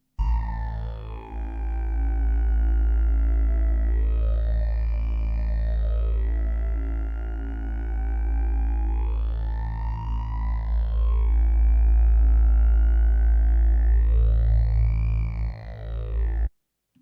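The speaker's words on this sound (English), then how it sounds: "that is a modified 1974 preset from the JD800" A modified version of the Roland JD-800 synth's 1974 preset gives a buzzing, lawnmower-like drone with a deep sustained low end and slow rising-and-falling sweeps that repeat three times, loud and alone before cutting off.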